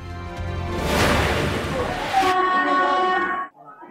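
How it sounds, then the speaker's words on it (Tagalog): A loud rumble of an approaching train, then a sustained horn blast at a level crossing that cuts off abruptly, followed by a quieter tail. "Maririnig ang pagbusina ng paparating na tren"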